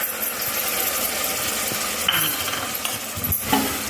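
Ingredients for tomato rice are stirred in a pan with dried red chillies and onion paste, making spoon scrapes and clinks over a soft, continuous sizzle.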